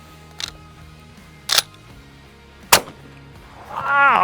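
A shotgun fires a bismuth duck load at a pumpkin 60 yards out, heard as three sharp, loud reports spaced about a second apart, followed by a rising, scraping mechanical noise at the end.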